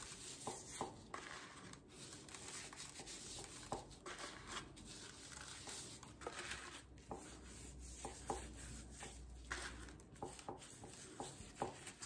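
Hands rub a spice rub onto a whole turkey for smoking, making faint, soft, irregular scuffing and patting sounds with occasional brief taps, close up and without talking.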